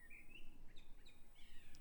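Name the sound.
birds singing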